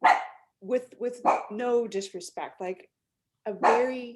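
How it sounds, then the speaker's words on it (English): A pet dog named Karma barks in short bursts during an interview, the yaps mixed in with and partly under ongoing conversational speech. "that's my dog Karma barking"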